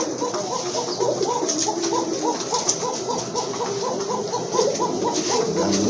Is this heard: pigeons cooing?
yes